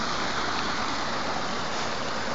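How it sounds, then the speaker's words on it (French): A mountain waterfall in Haute-Savoie pours in a dense, unbroken roar of falling water, loud and steady from start to finish with no talking. "ça fait belle cascade quoi"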